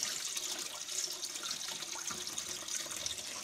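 Cold tap water runs steadily over rice being rinsed in a kitchen, a continuous close hiss and splash with no talking.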